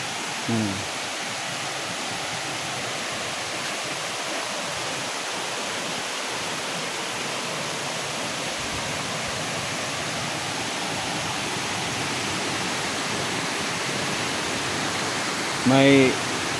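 Steady broadband rushing of falling water at Nalalata Falls in Bula, Camarines Sur, continuous and fairly loud, with a brief bump of other noise near the start and again near the end.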